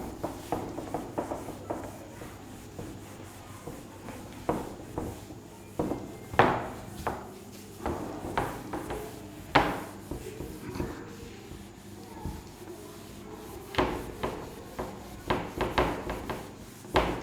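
A classroom board is rubbed clean, giving a series of dry rubbing and scraping strokes in irregular bursts, fairly close and moderately loud, with no talking.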